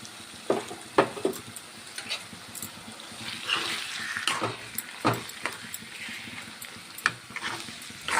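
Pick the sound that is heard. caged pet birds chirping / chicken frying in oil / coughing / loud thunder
chicken frying in oil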